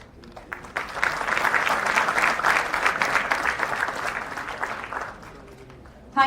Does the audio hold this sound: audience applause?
yes